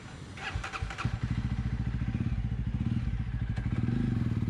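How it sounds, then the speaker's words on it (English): A Jawa 42 motorcycle fitted with a Red Rooster exhaust is started with the clutch pulled in and no throttle. A few cranking clatters give way to a steady, loud, thumping idle pulse that keeps going to the end. "The bike will start only if you press the clutch and without raising the accelerator."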